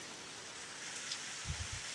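Steady rain hisses during Typhoon Julian (Krathon) in Upper Irisan, Baguio City, a constant dense wash with a few soft low thumps near the end.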